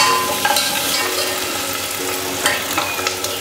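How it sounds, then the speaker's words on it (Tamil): Sliced onions frying and being stirred in a pan while making paneer butter masala, a steady broadband sizzle with occasional louder scrapes and clinks of the spoon, close and continuous with no talking. "ஸோ இப்போ வெங்காயம் போட்டு ஒரு 2 நிமிஷத்துக்கு கலரி விடுங்க."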